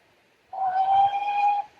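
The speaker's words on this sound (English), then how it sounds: "we've got a train going by here" A single sustained train whistle sounds clearly for about a second, a steady tonal blast that ends abruptly, with nothing else around it.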